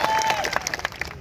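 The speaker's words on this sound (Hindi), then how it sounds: "जोरदार तालियों से स्वागत करें।" Short burst of crowd clapping at a migrant workers' gathering in Naroda, Ahmedabad, welcoming a speaker; dense, steady hand claps from a hall audience, moderately loud with no talk over it.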